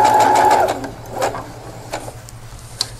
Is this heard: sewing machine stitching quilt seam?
yes